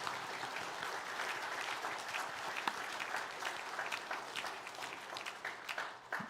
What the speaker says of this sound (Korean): 다 함께 축하의 박수 함께 하겠습니다.